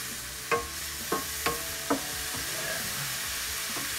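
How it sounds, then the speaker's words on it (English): A spoon stirring a sizzling cream sauce with garlic and onion in a pan, with a steady frying hiss and a few sharp scraping taps against the pan, close up and without speech. "So I mix this up nicely."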